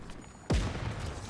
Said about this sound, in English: Those are my grenades.